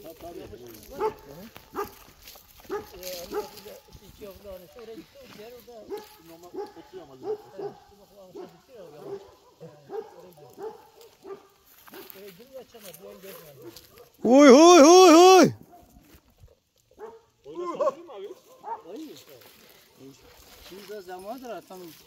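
Several flock dogs in the Pülümür mountains of Turkey bark intermittently in the background while people talk, with a loud high-pitched burst partway through.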